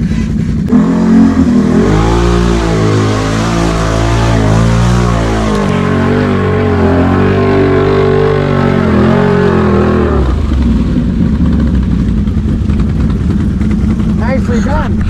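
A motorcycle engine revs hard and accelerates, its loud, close pitch climbing and dropping in waves before settling into a steadier drone, with some voices underneath.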